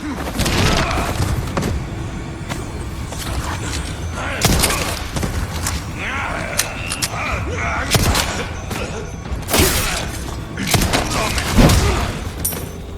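Loud booming blasts and thuds from a tripwire trap explosion in Resident Evil 4 (2023) on the abandoned island, with several sharp impacts, rumble and debris over continuous game noise, while someone talks intermittently.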